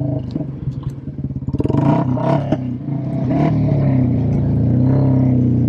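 Royal Enfield Classic 350 motorcycle fitted with an aftermarket cam and pipe, heard close up: a thumping single-cylinder idle that sharpens into rapid rev blips around the middle, then settles into a strong, steady aggressive drone.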